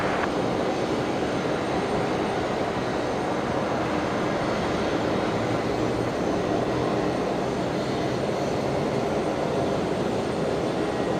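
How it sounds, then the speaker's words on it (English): A QantasLink Dash 8 Q400 turboprop on short final, landing at Brisbane Airport, makes a loud, steady engine roar that fills the whole stretch without a break. "The Dash 8 Q400 from Wagga Wagga. Here it is, just on short final."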